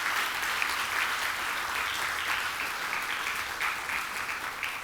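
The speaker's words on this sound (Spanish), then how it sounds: "Dele un fuerte aplauso a aquel que lo hace por nosotros." A church congregation applauds, its steady clapping filling the space evenly for several seconds, heard at a moderate distance with no voices over it.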